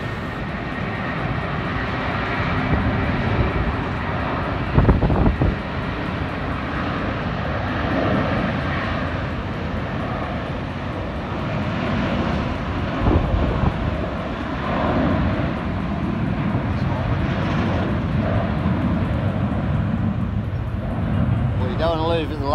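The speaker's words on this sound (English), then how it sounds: "was a plane starting, so we also watched how it goes" A small plane takes off at Gibraltar airport, its engine drone steady and fairly loud throughout, heard from a height above the runway, with people talking over it.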